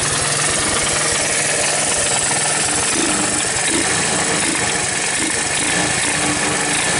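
A 1981 Honda ATC185S ATV engine, once seized and now smoking, runs steadily with a busy mechanical clatter, loud and close throughout with no talking.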